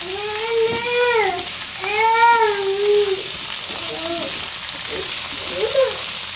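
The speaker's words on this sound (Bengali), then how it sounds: "এর ভেতর আমি এখন পেঁপে আলু কুচি দিয়ে দেব।" Chopped papaya and potato frying in a pan, a steady sizzle running beneath a voice talking in the foreground.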